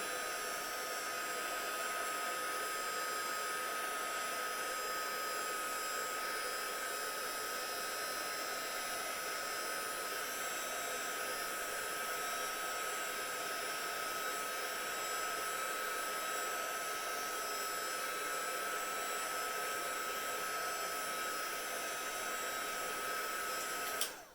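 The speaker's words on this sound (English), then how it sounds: "I'm going to run my heat gun over the top of this for probably about 10 to 15 seconds" A heat gun blows hot air over foam in a steady, high-pitched whirring hiss that runs unbroken for a long stretch before cutting off.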